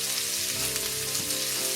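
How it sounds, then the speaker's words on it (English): Steady crackling sizzle of chicken frying uncovered in hot oil for a dhaba-style chicken curry, a continuous dense hiss with small pops, close by and without talk. "Make sure you don't cover it with a lid while frying this."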